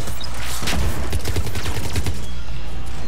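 Rapid, loud gunfire from Mass Effect 3 multiplayer, a steady stream of shots packed close together for about three seconds with dense combat noise behind.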